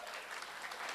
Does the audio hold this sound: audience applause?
yes